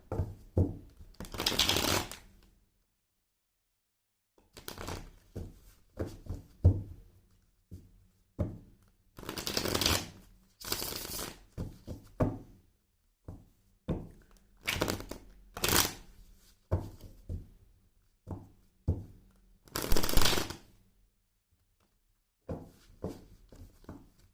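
Tarot cards being shuffled in repeated bursts, each riffle a crisp rapid flutter lasting a second or two, separated by short pauses and lighter taps and card handling, close and clear with no talking.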